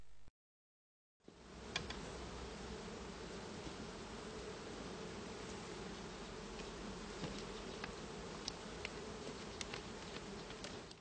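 Honey bees buzz at an open multi-box Langstroth-style hive during an inspection. After a brief silent gap, a dense, steady hum fills the scene, with a few louder individual bees passing close.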